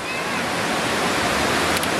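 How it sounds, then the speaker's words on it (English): Steady broadband roar of a waterfall heard from close by at its base, continuous and loud throughout with no break. "Right at the bottom of the waterfall"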